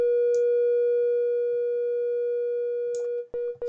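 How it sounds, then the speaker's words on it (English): A steady pure sine wave tone from a synthesizer holds one pitch loud and alone, with faint clicks and brief upper blips, then cuts out in two quick dropouts near the end. "Let's go to a sine wave."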